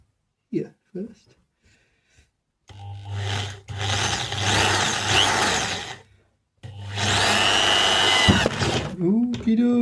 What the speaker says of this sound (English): The plan is that I'm going to drill